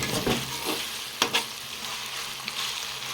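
Mutton pieces fry in oil in a pan while being stirred, a constant close sizzle broken by a few sharp scraping clicks of the utensil, with no one talking.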